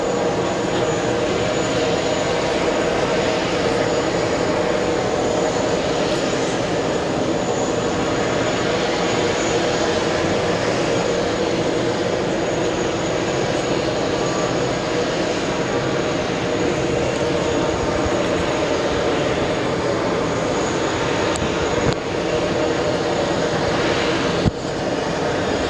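British Airways Boeing 777 jet at JFK airport, producing a loud, continuous engine roar and rumble that holds steady for the whole stretch, heard from fairly close with no voices.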